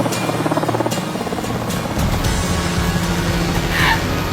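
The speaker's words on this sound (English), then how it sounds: "Load the helicopters and fly them out." Helicopters lifting off to fly people out of a wilderness survival challenge, a loud continuous thumping rotor roar close by that swells midway, with no voices over it.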